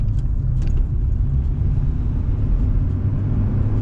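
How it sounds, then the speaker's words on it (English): A Fiat 500 with a 1.2 engine accelerates hard, producing a loud, close, continuous rumbling roar that holds for several seconds with no talking. "let's smoke this Fiat"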